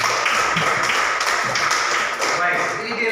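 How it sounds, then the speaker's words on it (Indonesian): A seventh-grade class claps hands in a classroom, producing a dense, steady burst of many overlapping claps that lasts throughout, with voices mixed in. "Ya, tepuk tangan dulu."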